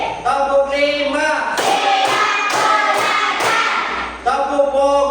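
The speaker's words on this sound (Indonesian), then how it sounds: "Tepuk 5." Classroom group clapping on a teacher's count, a few sharp rhythmic claps ringing out between spoken and sung voices in a room.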